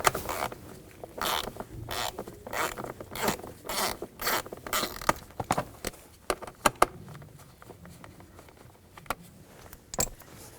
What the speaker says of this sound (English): use a 1/4 inch socket, take this screw out.